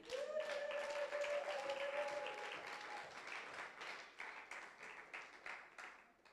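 A church congregation claps together in sustained, dense applause that stays loud throughout and eases slightly toward the end, with a brief held vocal tone over the clapping at the start.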